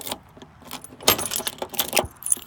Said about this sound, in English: This was the original keychain and the original keys from the dealer